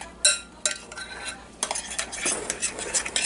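Homemade slime is stirred together with shaving cream in a bowl, giving scraping, squelching sounds with a few sharp clacks of the utensil against the container, close and steady.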